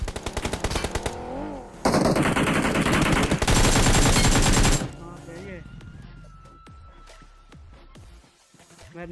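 Automatic gunfire in the mobile battle royale game BGMI: sustained loud bursts of rapid shots, then sparser, fainter shots and game sounds, with a voice talking in the background.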